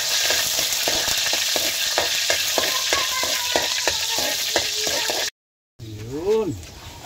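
Onions sautéing for pancit, a steady loud sizzle with intermittent stirring scrapes, broken by a brief silence, then a short wavering voice-like sound near the end.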